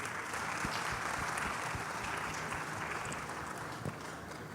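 An audience at a Pravasi Bharatiya Divas diaspora dialogue gives a sustained round of applause, dense and even from start to finish, tapering slightly near the end.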